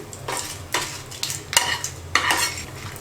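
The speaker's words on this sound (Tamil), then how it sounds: "இந்த சூடான எண்ணெயில் ஃப்ரை ஆனாலே போதும் வரமிளகாய்" Hot oil sizzles close by as dried red chillies fry while a spoon scrapes and stirs the pan in several bursts, the frying hiss swelling with each stir.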